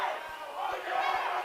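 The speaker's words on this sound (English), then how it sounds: "Crowd very wild tonight, very wild" A wild crowd roars steadily at a high school wrestling match, a dense wash of cheering and shouting voices that fills the whole short moment without a break.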